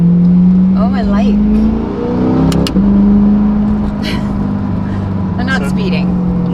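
A 2020-up Corvette C8 engine drones loud and close after a downshift to first gear, its steady hum rising slightly with a few quick revs while people talk over it.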